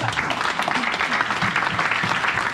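A church congregation claps steadily in a dense, continuous round of applause that acclaims the word of the Lord, filling the room at a moderate distance with no pauses.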